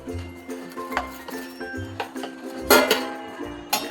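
Metal spoon clinks and scrapes repeatedly against a steel bowl while moong dal batter is stirred with turmeric and salt, a quick irregular series of bright taps, close and clear.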